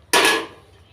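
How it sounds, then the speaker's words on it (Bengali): Spinach being stirred in a cooking pot of boiling water: a single brief metallic scrape and clatter of utensil against the pot, loud and close, then fading quickly. "এবার একটু নেড়ে চেড়ে"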